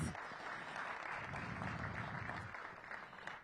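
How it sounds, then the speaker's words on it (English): A quiet crowd applauds steadily for several seconds at a downtown civic event welcoming a former Ward 2 Council member, the clapping soft and distant with no voices on top. "Please give him a round of applause"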